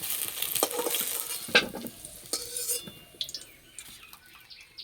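Potatoes frying in oil in a pan for Kashmiri aloo dum, a close crackling sizzle broken by several sharp clinks and scrapes of a utensil being stirred and lifted.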